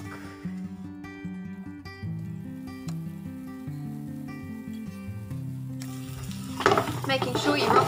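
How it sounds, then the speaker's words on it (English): Meatballs fry in a tablespoon or so of oil in a pan. Music plays throughout, and a bright, crackling sizzle swells up loudly near the end. "very carefully put your meatballs in to cook"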